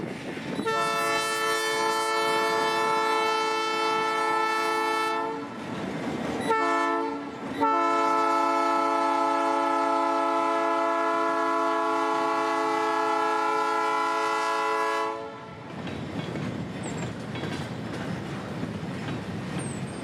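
A freight train pulls out southbound from Newberry, Florida on the Florida Northern line, its horn blaring in long loud sustained blasts with a brief break, then fading into rumbling rail noise.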